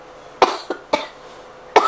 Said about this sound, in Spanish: se me revuelve la tos en la mañana